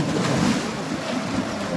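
A waterfall in Heet Cave near Riyadh, Saudi Arabia, gives a steady, rushing roar of falling water, constant and fairly loud, with no voices.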